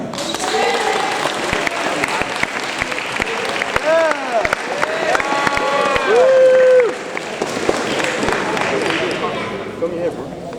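Award ceremony audience applauding, dense clapping mixed with cheers and voices rising over it, one sustained shout standing out near the middle.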